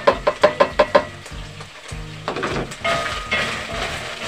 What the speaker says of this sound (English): And then I go in with my chopped onions.